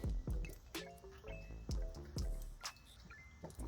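Old coolant drips from a car engine during pre-installation work for a 2.5L engine swap, a series of distinct liquid drops falling close by into a pool with a steady irregular rhythm, no talking.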